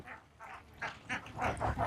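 Khaki Campbell ducks, about three months old, at a duck farm holding a thousand birds: a fast run of nasal quacks from several ducks, overlapping and growing busier toward the end, fairly close and moderately loud.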